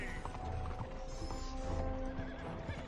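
A horse neighs and whinnies loudly in the Red Dead Redemption 2 video game, with clip-clopping hooves and faint mechanical clicks running steadily throughout.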